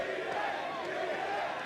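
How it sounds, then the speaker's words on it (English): An esports arena crowd at a League of Legends all-star event cheers and shouts in a continuous distant roar, without any single voice standing out. "Froggen is pumping up the crowd."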